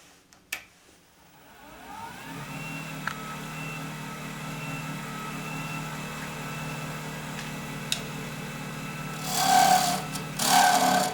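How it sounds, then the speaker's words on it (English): A small gouge cuts a wooden bottle stopper spinning on a lathe, giving a steady whirring hum with a faint scraping tone, then louder bursts of cutting near the end, with no talking. "we'll get in here with a much smaller gouge"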